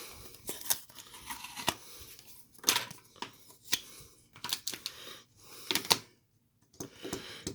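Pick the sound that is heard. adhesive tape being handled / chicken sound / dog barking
adhesive tape being handled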